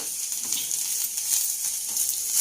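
Pieces of ivy gourd (dondakaya) fry in a pan with a soft, continuous hiss and sizzle, heard close up at low volume for a moment, with no voices.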